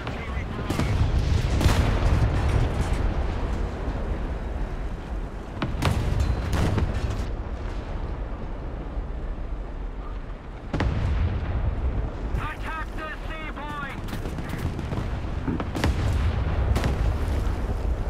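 Heavy artillery fire in War Thunder on PS5, repeated loud booms and crashing blasts over a continuous rumble of battle, with a crackling burst of rapid shots partway through.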